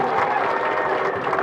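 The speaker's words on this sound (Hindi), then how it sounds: "ताली बजाओ इनके लिए" Audience at a World Indigenous Day gathering applauding, a dense, steady wash of clapping that holds evenly for the whole moment without a break, fairly loud and close.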